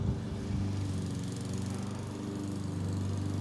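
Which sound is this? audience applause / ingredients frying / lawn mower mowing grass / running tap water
lawn mower mowing grass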